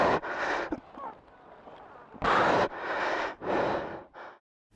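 Heavy, labored breathing after lifting the rear wheel of a Kawasaki Versys 650 motorcycle: a series of loud, close gasping breaths and exhales in uneven bursts, with short pauses between them.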